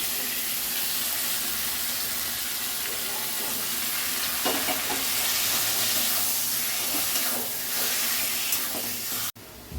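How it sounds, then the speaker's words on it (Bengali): Boiled cabbage, ground to a paste on a grinding stone, fries in a pan with garlic and chopped green chili. A loud, continuous hiss and sizzle holds steady, with a few soft stirring knocks and a brief cut near the end. "দু মিনিট মতো ভেজে"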